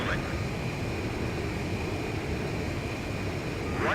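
A fighter jet in Ace Combat 5 roars steadily with a continuous engine rush and a sustained whine, loud and unbroken throughout.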